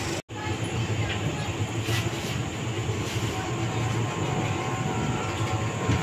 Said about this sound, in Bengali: দেখো ট্রেন ছেড়ে দিয়েছে শ্রীরামপুর স্টেশন।